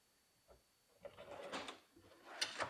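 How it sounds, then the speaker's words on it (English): A soft-close drawer slides into a Versa drawer bank: faint rolling runner noise, then a few soft thuds and a gentle closing bump, quiet and close with no talk. "Get them slid in, line them up, push them all the way back, engage the stop, check the soft close."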